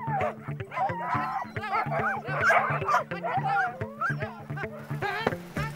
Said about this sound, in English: We're off on a 6-dog-powered sled with one puppy in hot pursuit.